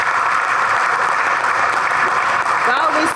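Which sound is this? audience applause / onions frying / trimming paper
audience applause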